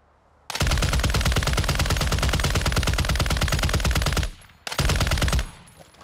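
A video game weapon fires in a fast, loud, sustained automatic burst for about four seconds, then stops briefly and fires a second, shorter burst, with no talking over the shots.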